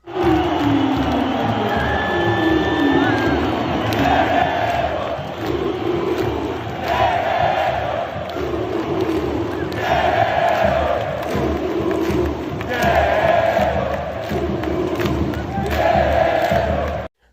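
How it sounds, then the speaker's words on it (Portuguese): Stadium football crowd roaring, cheering and chanting after a goal, a dense continuous wall of voices with rhythmic swells of chanting throughout. "Depois do gol foi assim que a torcida reagiu no estádio."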